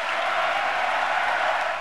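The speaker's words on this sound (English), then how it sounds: "That was one of the big applause lines yesterday in Bibi Netanyahu's speech before the Congress." Applause in the U.S. Congress for Netanyahu's speech, a dense, steady roar of clapping from a large crowd filling the room without a break.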